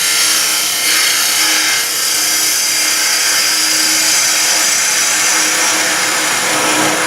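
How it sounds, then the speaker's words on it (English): A 3/8 spindle gouge cuts into a spinning wooden lidded ring box on a lathe, giving a loud, steady, hissing scrape with a faint motor hum beneath, continuous throughout and close up. "I'll take the 3/8 spindle gouge, and we're just going to take this off a little bit flat."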